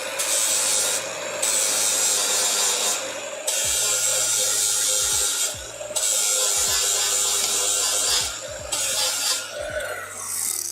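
An exhaust manifold being ground smooth in a garage, with loud abrasive grinding bursts of several seconds each, broken by short pauses and occasional tool knocks, close and harsh.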